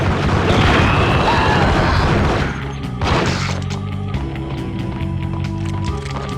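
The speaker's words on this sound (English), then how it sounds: "Good grenade throw." A grenade goes off in the 2001 PS2 game Max Payne, a loud, dense blast with crashing debris that sustains for about two seconds, then cuts to a quieter scene with scattered thuds and small impacts.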